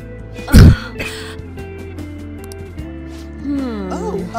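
A Persona 5 game character gives a single loud, short cough-like burst near the start, set against soft game background music with tonal voice sounds near the end.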